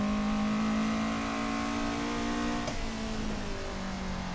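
A Toyota AE86 engine on a mountain touge run, a steady close drone under light throttle that eases slightly in pitch, with a faint tick partway through and no voices.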